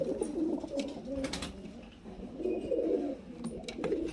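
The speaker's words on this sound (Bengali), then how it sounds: "এই যে দেখুন লাল নর পায়রাটা" A red male highflyer pigeon coos close by in soft, repeated throaty rolls, with faint rustles and light clicks in the background.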